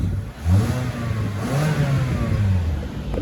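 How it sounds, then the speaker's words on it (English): A Mazda 3 Maxx engine is revved from idle, its mid-pitched note rising and falling through a few throttle blips at close range with no talking. "Give it a bit of a rev."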